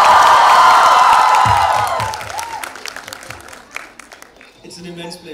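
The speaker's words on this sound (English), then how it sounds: "Please give a huge round of applause for nititaylor." Loud audience applause and cheering with whoops greet actress Niti Taylor on stage at the Vividh festival, a dense burst that gradually thins into scattered claps and a few voices over about five seconds.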